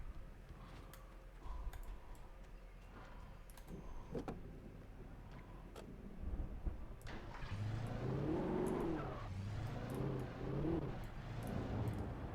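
An engine revs up in the video game Alan Wake as a car pulls away, rising to a loud, rough acceleration over the last few seconds, with clicks and thumps before it.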